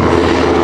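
An NH90 helicopter flying at an airshow in Rennes gives a loud, steady engine and rotor roar, close and continuous for a brief moment with no pause.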